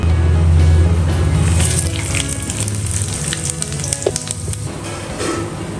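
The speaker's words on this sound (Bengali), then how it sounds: "শুকনো লঙ্কা, একটু চিনি, একটু দুটো তেজপাতা, এই কটাকে আমি এই তেলের মধ্যে দিয়ে দেবো।" Dried red chillies, sugar and bay leaves fry in hot oil for an egg curry, making a loud close sizzle with crackling pops over a low steady hum that fades after the first couple of seconds.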